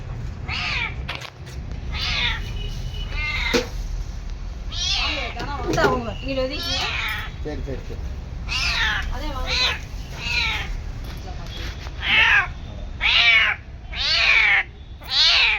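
A kitten stuck in one spot for two days meows repeatedly, high plaintive cries coming in a series that grows louder and more insistent toward the end, with people talking nearby.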